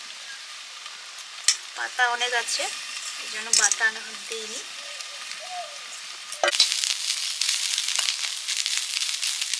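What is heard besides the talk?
amedi fish frying in pan with tomato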